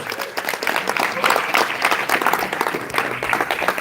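A live audience gives Pauly Shore a round of applause, dense, lively clapping that holds steady for several seconds, fairly close, with faint voices mixed in.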